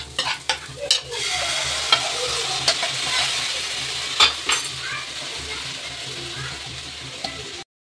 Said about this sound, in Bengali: এবার যে সুজিটা আমি ভিজিয়ে রেখেছিলাম ওই সুজিটা দিয়ে দেবো